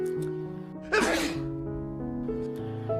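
A single sharp sneeze from a person who is unwell, bursting out loudly over a steady background of tonal music and lasting about half a second.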